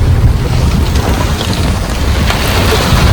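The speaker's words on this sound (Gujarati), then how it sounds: "ધોધમાર વરસાદ છે" Heavy downpour drums loudly and steadily on a car during a storm, a dense, roaring wash of rain close around, with no voices.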